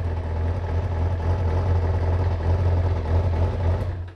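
A rebuilt Kawasaki ZZR 600 motorcycle engine idles with a steady, low rumble, continuous and even throughout, close and fairly loud, cutting out right at the end.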